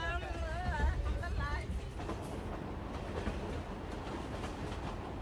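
Interior of a crowded passenger train in West Africa, with a mix of rail rumble and a dense murmur of many voices and chatter, fairly quiet and continuous.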